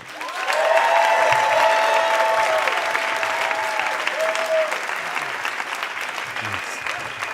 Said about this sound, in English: please sound like a million people for Richard Cardillo.